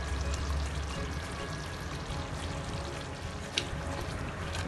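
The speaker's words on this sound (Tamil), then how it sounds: "இப்போ வந்து நான் அந்த அரைச்ச எள்ளை மேலே போட்டுறேன்." Ground sesame goes into a boiling Penang pasembur sauce, giving a steady bubbling, sizzling wash with a faint pouring texture and one small clink near the end, close and continuous.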